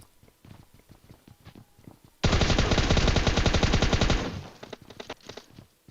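A burst of automatic gunfire in PUBG Mobile pre-fires across a floor of a building, a loud rapid string of shots lasting about two seconds, with soft footsteps and movement sounds before and after.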